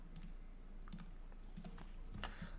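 A computer keyboard is typed to enter a shortcut in Revit building design software, giving a few soft, scattered key clicks over a faint steady background hum, with no one speaking.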